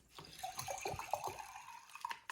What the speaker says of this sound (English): So we're gonna add water to our cup.